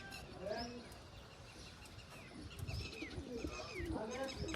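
Several pigeons coo softly at close range in a loft, with repeated low throaty calls and a few chirps, while a person's voice is heard faintly beside them.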